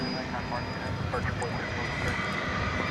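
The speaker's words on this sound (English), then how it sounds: "American Flight 2073 is off to San Diego. It's an Airbus A321." An American Airlines Airbus A321 bound for San Diego takes off at DFW Airport, a steady broadband jet roar that holds at a constant loudness throughout, with people talking beneath it.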